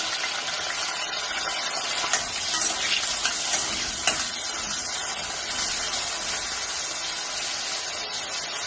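Potatoes fry in oil in a pan for brinjal curry, giving a continuous, fairly loud hissing sizzle with occasional small pops and stirring scrapes.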